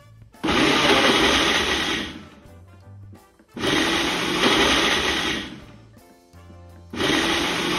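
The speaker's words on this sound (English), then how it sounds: "I'm making a smoothie. I'm just using ice, frozen strawberries, and yogurt and almond milk." A Ninja blender blends ice, frozen strawberries, yogurt and almond milk into a smoothie in three loud, steady bursts of roughly two seconds each, with short quieter pauses between them and no talking.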